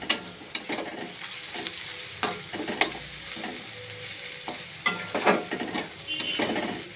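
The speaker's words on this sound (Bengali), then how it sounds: "রসুনটা দিয়ে এবার ভালোভাবে নেড়ে চেড়ে নেব" Garlic and reddened onions sizzle steadily in a pan while a spatula stirs them, giving intermittent scraping knocks over the continuous frying hiss.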